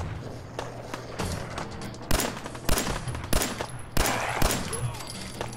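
Several sharp gunshots from raiders in the video game Fallout 4 crack out at irregular intervals over a low steady hum, some close and loud, others lighter.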